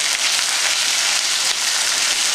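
Ginger paste and green chilli paste frying in a pan for a banana flower dish make a constant, bright sizzling hiss, fairly loud and unbroken, with no voices.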